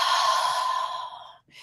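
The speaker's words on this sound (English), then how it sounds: "do those nice deep breaths" A single long, deep breath drawn and slowly released during a calming relaxation exercise, close and alone, tapering off near the end before a brief soft breath sound.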